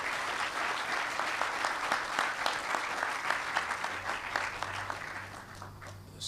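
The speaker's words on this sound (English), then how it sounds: "So please, a round of applause for Craig and RBC." An audience claps at a ribbon cutting ceremony, steady sustained applause from a modest crowd that slowly thins out and fades near the end.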